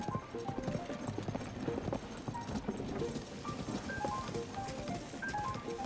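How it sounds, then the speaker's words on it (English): A horse gallops in Zelda: Tears of the Kingdom, its hooves clopping in a steady, fast rhythm throughout with game music tones over it. "This 3-speed horse is much slower."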